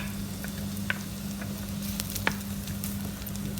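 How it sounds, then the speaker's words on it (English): Chopped onions frying gently in a pan for a tomato and pepperoni rigatoni sauce, a steady soft sizzle with a couple of faint clicks and a low hum beneath, no voices. "just want to get them frying softly just to start getting that cooking"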